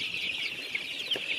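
Chickens bought as broiler birds, about eight days old, give a steady high-pitched peeping and clucking that runs through the moment without a break, close and moderately loud, with no talk over it.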